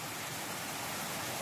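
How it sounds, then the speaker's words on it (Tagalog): Heavy rain pours down outdoors in a dense, steady hiss of water that fills the whole moment evenly, with no voices over it. "Ang lakas ng ulan"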